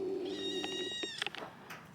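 A young male cat meows nearby in a long, tonal cry followed by a few shorter, softer mews, with faint room noise and no talking.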